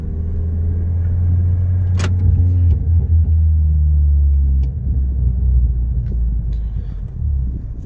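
A tuned Toyota Corolla rumbles loudly from close range as the throttle is lifted, with a low droning exhaust and a few faint crackles and pops scattered through the deceleration.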